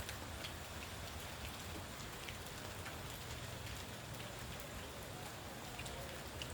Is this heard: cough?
no